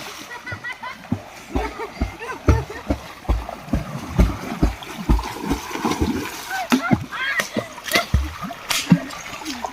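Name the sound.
water splashing as someone bathes in a pond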